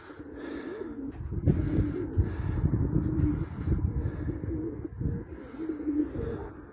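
Pigeons in a loft, including white birds that have started laying, coo steadily with overlapping, low throaty calls close by, forming a continuous murmur throughout.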